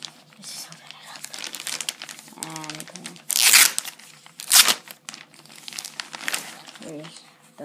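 Packing paper crinkles and rustles while a Toshiba i7 laptop is unboxed, with louder crunching bursts midway, close to the microphone, and a person talking briefly.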